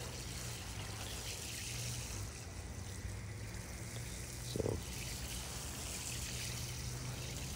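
Water trickles steadily while a citrus tree is watered outdoors, a soft continuous flow running throughout with one brief louder splash near the end.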